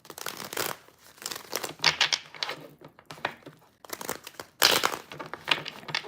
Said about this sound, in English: I excuse the loud bangs from the cards.